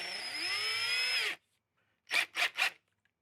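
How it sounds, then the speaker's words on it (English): Masonry bit being tightened in a power drill, a whirring drill run of over a second that winds down, then after a pause three quick ratcheting clicks from the chuck being tightened, close and clear with no talk. "Tighten it in the drill."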